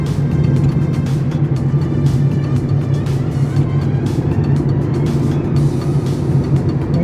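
A car drives along the Tamhini Ghat road at moderate speed, its engine and tyre roar a steady, close rumble that holds evenly throughout with no voices.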